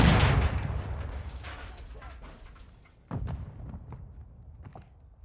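An explosive charge detonates in Call of Duty MWII with a loud, heavy blast that rumbles and fades. Then a second thudding boom follows, along with scattered gunfire pops and game sounds.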